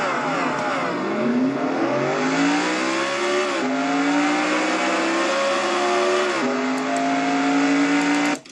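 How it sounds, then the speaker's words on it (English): A race car engine in a NASCAR Nationwide Series racing video game revs up and drives off, its pitch climbing steadily through several gear shifts with brief dips, loud and close, then cutting off abruptly. "Lisa having a hard time getting her car to start, but she now finally does, and she's back on the racetrack right now."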